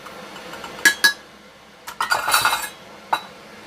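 Sugar stirred into pectin in a kitchen bowl for watermelon jelly, giving a few sharp utensil clinks against the bowl and a short scraping burst, with quiet gaps between.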